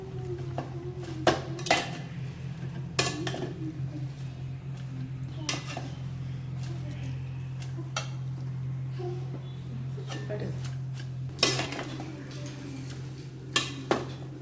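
Onions, salt and greens are being mixed in a cooking pot, heard as faint intermittent metallic clinks and scrapes of a spoon against the pot over a steady low hum.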